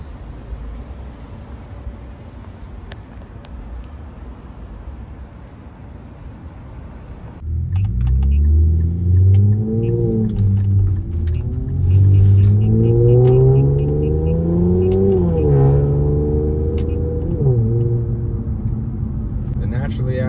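A naturally aspirated or supercharged V8 car accelerating hard, its deep engine note climbing and dropping through several rising sweeps after a quieter idle, loud and close, with wind roar throughout.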